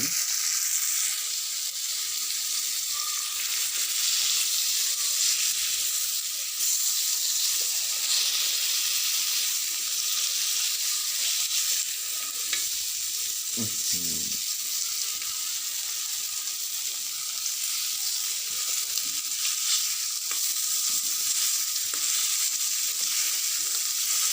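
Rupchanda (pomfret) sea fish frying crisply in a pan, giving a steady, close, loud sizzle and hiss throughout, with a brief clatter of stirring or turning near the middle.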